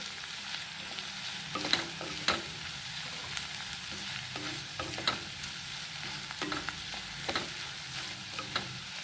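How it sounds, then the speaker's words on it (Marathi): Whole garam masala spices (cinnamon stick, green cardamom) sautéing with onions for an aloo mutter bhaji, a steady soft sizzle with intermittent scraping stirs of a spoon against the pan, close and alone. "आता हे गरम मसाले पण आपल्याला छान ह्या कांद्यामध्ये परतून घ्यायचेत"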